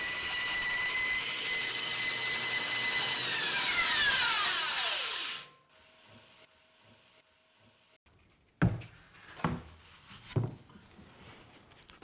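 A large saw cuts wood for building a sport dory, first a loud, steady high whine through the cut, then it winds down and stops, followed by a few sharp knocks and clunks of wood being handled.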